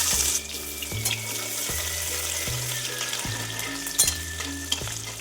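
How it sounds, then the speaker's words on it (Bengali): Chopped onion dropped into hot oil with cumin seeds and bay leaf, frying with a loud steady sizzle and hiss, with intermittent stirring and a low repeating background hum. "তেল দিয়েছি, এখন ফোড়নে দিলাম জিরা, দেখো দিলাম তেজপাতা, দেখো পেঁয়াজ কুচানোটা দিয়ে দিলাম"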